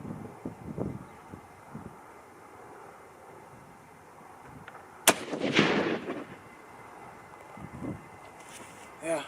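A Browning 25-06 Rem rifle fires outdoors, one sharp, loud report with a rumbling echo standing out midway, while wind buffets the microphone and softer thumps come and go.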